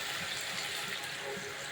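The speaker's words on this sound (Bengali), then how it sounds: "এখন জলের পানি দিয়ে দিচ্ছি" Water poured into banana curry simmering in a pan, a steady close rushing pour with faint bubbling, continuous and fairly quiet throughout.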